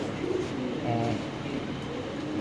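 An old-line pigeon with deep red plumage coos briefly at close range on a pigeon farm, a soft throaty burst amid background noise.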